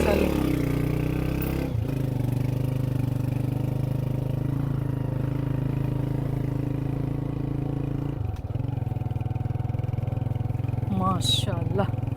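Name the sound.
motorcycle engine running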